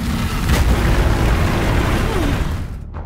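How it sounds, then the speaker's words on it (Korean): A deep explosion booms in the Path of Exile story, a loud, rumbling blast that fills the scene and rolls on for a few seconds before cutting off abruptly. "그리고 그 폭발의 충격은"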